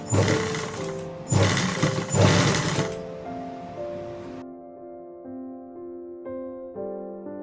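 A sewing machine stitches a kurti panel seam in three loud, close bursts at the start, then falls quiet while soft background music continues.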